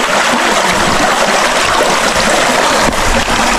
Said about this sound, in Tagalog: dito kami dumadaan ngayon sa ilog.